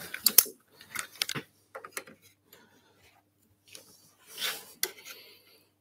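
Short rasping strokes of a hand file sharpening a garden tool clamped in a vise, irregular bursts separated by pauses, close and fairly quiet.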